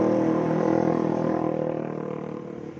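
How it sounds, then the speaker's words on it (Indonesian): Loud motorcycle with a modified open (brong) exhaust, a steady throaty drone that stays close and strong before easing off slightly, heard alone without talk. "suara motornya itu loh, rek. Jangan begitu ya, kalau punya motor itu jangan dibuat brong"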